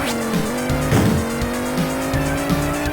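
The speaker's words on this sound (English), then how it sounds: "in this game we're invited to drift around corners and slam into the other opponents" Racing car engine whine with repeated tire squeals as cars drift around corners in the Amiga top-down racer All-Terrain Racing, a steady loud buzzing engine tone punctuated by short skid bursts.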